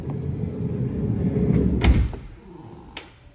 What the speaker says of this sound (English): So it's got what we call power latching door, so just show you that again. You don't have to slam the door.